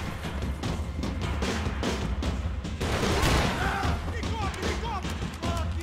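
A shotgun fires in the PC game Max Payne 3, with booming blasts set in a busy, loud wash of game sound while a voice talks over it.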